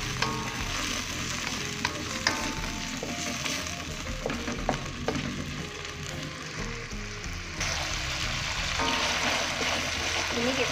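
Red and green chili and ginger are stir-fried in plenty of oil, giving a steady loud sizzle throughout with scattered scraping taps of a spatula stirring in the pan and a brief surge of frying near the end.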